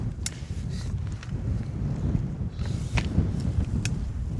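Gusty wind buffets the microphone outdoors during a rifle scope shooting session, a continuous low rumble with scattered thumps and brief rustles, and no speech.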